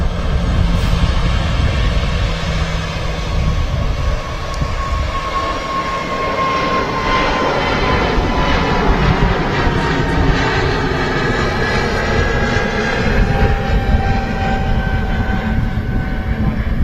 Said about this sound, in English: TAP Air Portugal now rolling.